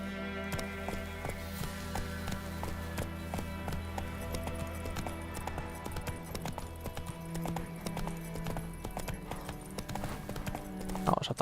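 Geralt's horse Roach gallops in The Witcher 3 video game, with a steady, loud clip-clop of hooves over music and ambience, a brief whinny and a voice at times.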